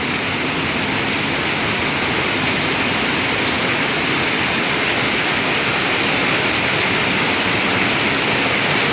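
Heavy rain pours down at Anakkallu near Kanjirappally, Kerala, a dense, unbroken roar of water striking surfaces close by, steady and loud throughout with no voices.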